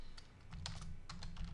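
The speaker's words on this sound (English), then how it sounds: "I type in here." Typing on a computer keyboard to write a reply message, a quick scattering of light clicks in short bursts over a low steady background hum.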